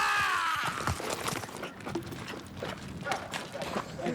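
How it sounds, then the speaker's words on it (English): Horse hooves clip-clopping as the animal runs off in an Indiana Jones film scene, with busy film audio and voices mixed in underneath over a few seconds. "go save Marcus Brody, whose horse runs away with him"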